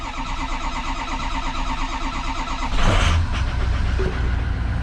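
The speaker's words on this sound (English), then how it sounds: "Cranks for a while when we start her." A Ford 6.0 diesel engine with a high pressure oil pump problem cranks steadily for several seconds, then catches with a loud burst near the midpoint and settles into a rough, rumbling idle, close and with no talking.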